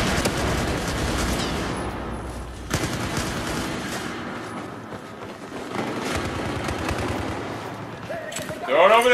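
Battlefield 4 first-person shooter gameplay brings sustained loud bursts of automatic gunfire and shots, dense at first, briefly easing, then resuming, with a player's voice breaking in near the end.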